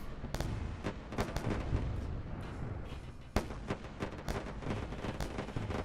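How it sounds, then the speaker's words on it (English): A missile fired in the space game Wayward Terran Frontier, heard as a sequence of heavy booming blasts and rumbling impacts, with one sharp loud explosion near the middle against a dense, continuous roar. "Fire off a missile."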